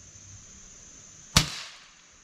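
A single sharp shot from a 1906 Winchester .22 pump rifle, a brief close crack with a short decaying tail, after a quiet outdoor background hum.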